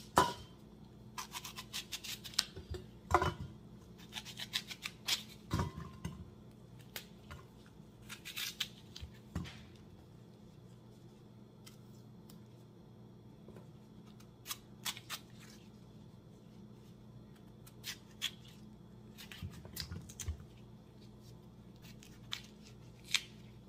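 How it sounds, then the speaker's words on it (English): A knife cuts fresh fruit into pieces on a board for a health juice, giving soft irregular chopping and crunching taps spread across the clip, fairly faint and close, with no talking. "So I'm going to cut my fruit into pieces."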